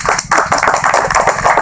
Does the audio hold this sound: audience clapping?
yes